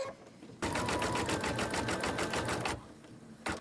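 A sewing machine stitching placemat fabric sections runs in a fast, even rhythm for about two seconds, close and clear, then stops before a short final burst.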